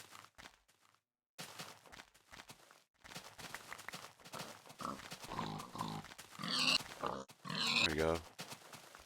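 Pigs grunting in the Minecraft video game, short oinks scattered among footsteps and game noises while someone talks over them.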